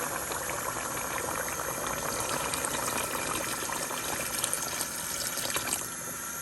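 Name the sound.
water poured into pot of Jamaican curried goat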